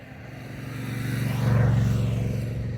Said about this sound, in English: There goes a motorcycle.